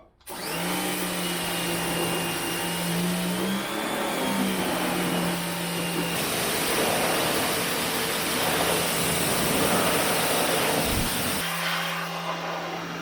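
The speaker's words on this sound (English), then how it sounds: "we're going to start power washing" A pressure washer blasts the grime off 1965-1966 Ford Mustang brake parts soaked in Simple Green. It runs as a steady, loud, continuous spray with a motor hum underneath, with no talking.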